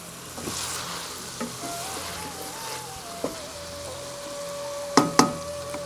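Onions and cauliflower fry in a pot for aloo gobi under a steady sizzle, with occasional scrapes and knocks of a stirring utensil and a faint background whine.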